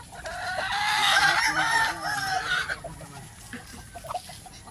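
Chickens on a small farm: several roosters and hens cluck and crow close by, loud at first, then thinning to scattered calls toward the end, with no clear speech.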